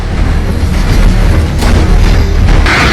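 Gunfire at a conflict zone during the October 2023 fighting, with missiles passing overhead: a loud, continuous booming rumble with dull thuds and bursts, heavy low-end pressure throughout, no clear voices.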